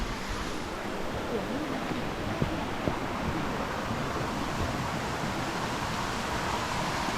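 A steady, dense rush of falling water from Bang Pae waterfall in Thailand fills the scene, constant and broadband with no pauses.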